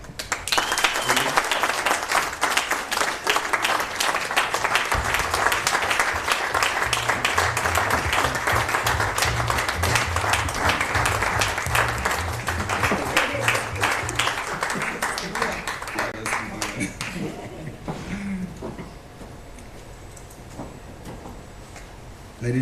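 A live audience at a garden cafe network session breaks into sustained applause, dense clapping filling the room for many seconds before thinning out toward the end, with voices audible beneath it.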